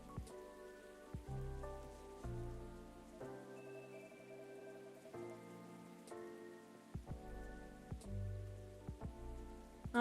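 Steady rainfall patters softly in the background of the Coffee Talk 2 video game, a continuous wash beneath layered soft musical tones, with no one speaking.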